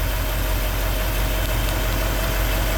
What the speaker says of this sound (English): Car runs great, guys. Just started right up.